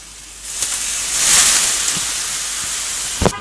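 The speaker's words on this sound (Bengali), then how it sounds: "মাছটা আমি একটু মশলাটাতে ভালো করে কষিয়ে নেব।" Hilsa fish head sizzling as it is sautéed in spice paste in a pan, a steady mid-level hiss that swells briefly and then settles, with a few small clicks and pops near the end.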